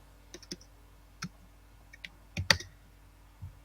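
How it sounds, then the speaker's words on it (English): Typing on a computer keyboard, quiet scattered key clicks and taps in an uneven rhythm, a few louder clustered strikes midway, otherwise soft and sparse. "What are you typing?"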